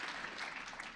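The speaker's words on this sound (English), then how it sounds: "let's get a round of applause for that" Steady, distant audience applause greets graduating high school students on stage at a school event, a faint, even wash of many hands clapping with no voices on top.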